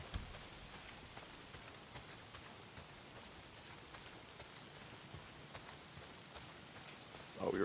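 Steady rain pouring down in the video game Days Gone, a constant soft hiss with scattered drop taps throughout and a brief louder burst at the end.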